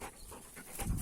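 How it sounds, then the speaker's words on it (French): A playful dog pants close by, quick rapid breaths in a short burst that grows a little louder toward the end, with no talking. "J'ai été interrompue par le chien qui voulait jouer avec moi."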